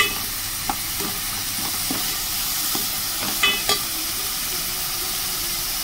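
Vegetables for fried rice are stirred in a pan over a steady sizzle and hiss, with occasional faint scrapes and taps of the spoon.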